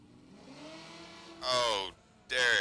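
A Honda and a Camaro launching side by side in a drag race at a Florida motorplex drag strip: a brief loud engine roar, a short dip, then a second surge, close and powerful, with an announcer's voice faintly beneath.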